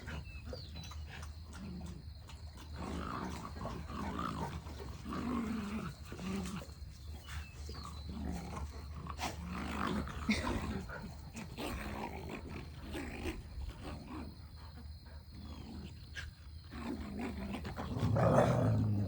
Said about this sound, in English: Everybody's got dog wrestling on the mind today?